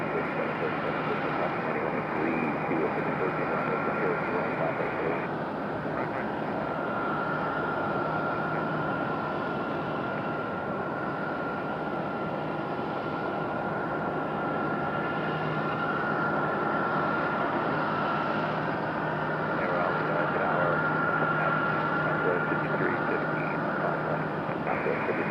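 Airliners at Raleigh Durham airport as a Delta A321 departs, a steady broad jet roar that holds loud and constant throughout from a distance, with faint hum and no talking over it.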